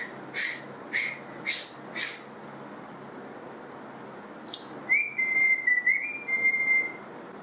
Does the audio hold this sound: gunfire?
no